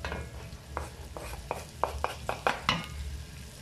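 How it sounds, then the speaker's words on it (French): Shallots frying in olive oil with toasted curry in a pan, a soft steady sizzle under a series of regular scraping stirs from a utensil, close and moderately loud. "Et là, on met nos échalotes à revenir avec le curry qui a bien torréfié juste avant"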